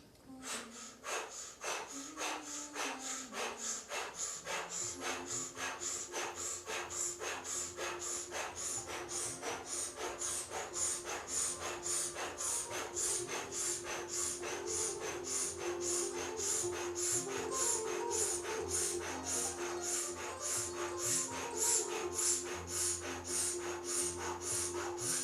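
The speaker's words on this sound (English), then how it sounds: "breathing powerfully, moving a lot of energy here" Forceful rhythmic breathing during a Kundalini yoga session, quick even breaths pulsing steadily for the whole stretch over a sustained background drone, with no talking.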